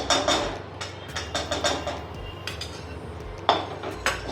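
A metal spoon stirs and scrapes roasting moong dal with ghee in a pan for halwa, giving quick rhythmic clinks and scrapes against the metal over a low steady hiss.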